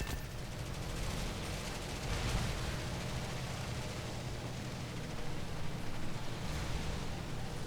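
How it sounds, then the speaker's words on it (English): Aircraft guns strafing an enemy plane in the War Thunder air combat game, a steady dense rattle of gunfire over a constant engine and wind roar, with no voice heard. "Nope, strafing him again."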